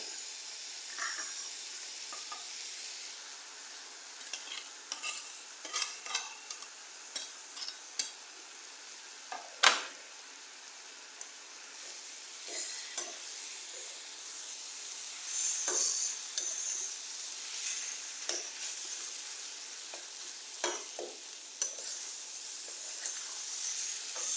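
Paneer and tomato sauté in a pan with a steady, hissing sizzle and repeated scraping stirs, close by and continuous over a long stretch, with occasional louder clacks of the spatula.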